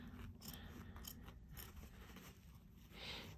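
Shears snip repeatedly through stiff fabric, giving crisp, close cutting crunches at a steady pace with no voices.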